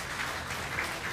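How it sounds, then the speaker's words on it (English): A crowd at a state fair FFA livestock awards show gives a brief round of applause, steady and moderately distant. "Let's give them a round of applause for giving these quality animals here"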